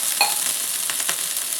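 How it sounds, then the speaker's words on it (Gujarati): Water splashed onto a hot dosa griddle sizzles and hisses loudly and continuously, with a brief sharper crackle near the start and no voices. "તો પહેલાં તો આપણે તવાની ઉપર આ રીતે પાણી નાખી દેવાનું છે"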